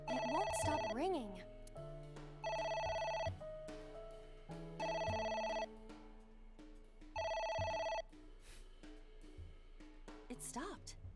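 In AI: The Somnium Files, a phone rings in three loud, regular electronic bursts over game background music, with brief voice sounds around the rings.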